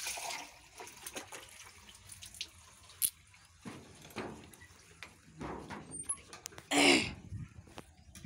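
Running water splashes and drips while a very dirty bathroom is washed down, with scattered splashes and a louder gush near the end.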